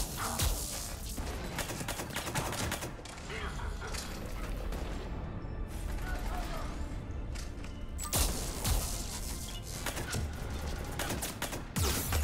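Dense, continuous gunfire from a Mass Effect 3 battle, loud and rapid throughout with a few sharper bursts, with a voice calling out over the shooting.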